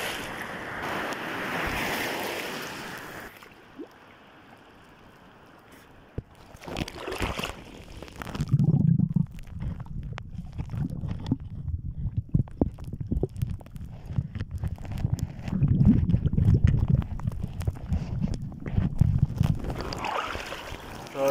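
Ocean surf rolls and washes steadily with gusts of wind buffeting the microphone, low churning water noise building in the second half.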